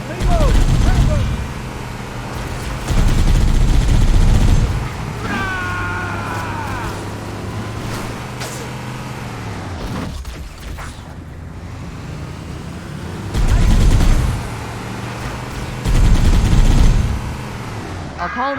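Gunfire in the video game Halo: Combat Evolved, with loud bursts of rapid automatic fire in several volleys amid a steady game-engine hum and whirring effects, and characters talking between the bursts.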